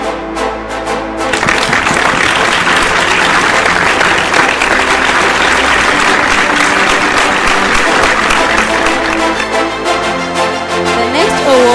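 Loud, sustained applause from a large audience at a scientific conference award ceremony, steady clapping for an award winner that swells after the first second and holds for over ten seconds.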